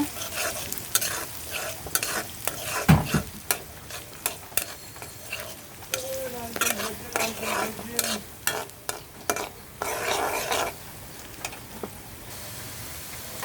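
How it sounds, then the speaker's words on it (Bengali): Onions fry in oil for a prawn chorchori while a spatula repeatedly scrapes and stirs the pan, sharp close clacks over a soft continuous sizzle, with no speech. "আমার পেঁয়াজ ভাজিটা হয়ে আসছে।"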